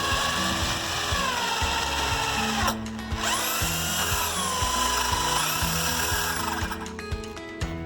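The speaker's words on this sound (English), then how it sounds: "bolting the last piece on with the galvanized bolt and nut, 10-inch bolt, 1/2-inch nut" Ratchet cranking galvanized 10-inch bolts with 1/2-inch nuts through a pontoon trailer beam, a steady clicking rhythm of repeated strokes over continuous mechanical noise and tonal background, with a brief pause midway.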